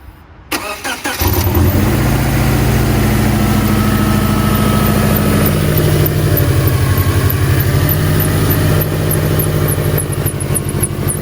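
A 2007 Subaru Legacy GT with an aftermarket intake cranks briefly and fires up, then settles into a loud, steady idle with an even rumble that carries on to the end, recorded close by.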